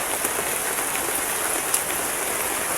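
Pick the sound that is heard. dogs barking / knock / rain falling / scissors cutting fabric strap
rain falling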